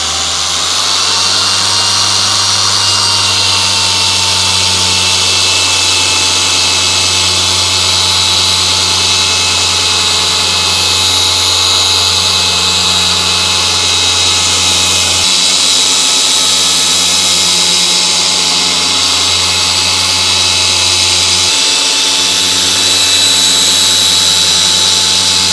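Machine polisher with a pad working paint correction on a 2007 Subaru WRX, a loud continuous close-up whirring drone with steady pitch and slight load changes throughout, no talking.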